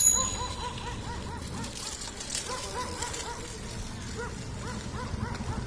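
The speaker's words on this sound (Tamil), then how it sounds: "அங்கே நாய் சத்தம் கேட்குது." A dog barks repeatedly on a residential street near Moolakkadai in Chennai, a moderately distant run of barks over traffic and street noise.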